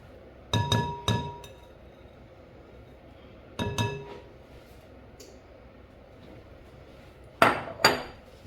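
A spoon mixing dough in a bowl knocks sharply against the bowl in three separate bursts of two or three ringing clinks, with quiet pauses between them and no talking.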